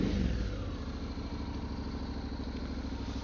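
A Honda X-ADV 750 scooter engine runs close by with a steady pulsing throb, a short rev at the start settling into an even mid-pitched idle.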